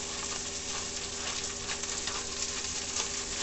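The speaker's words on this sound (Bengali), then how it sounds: "মশলাটা দিয়ে আমি একটু ভেজে নেব" Puliyogare spice mix fries with onion and tomato in a pan, a steady close sizzle with soft crackles and occasional stirring, no talking.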